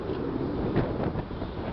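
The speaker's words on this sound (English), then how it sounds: "It's very windy up here right now." Steady wind buffets the microphone on a rooftop in Harlem in a low, continuous rumble with a few gusty swells, no voices.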